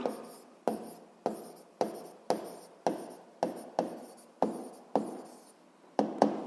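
Handwriting notes during a 7th-grade physics lesson: about a dozen crisp, close strokes in a fairly even rhythm, each sharp scratch fading quickly into near silence.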